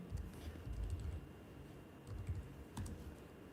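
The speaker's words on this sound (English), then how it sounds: "keep typing" Steady typing on a computer keyboard, a continuous run of soft clicking keystrokes close to the microphone, with no talk over it.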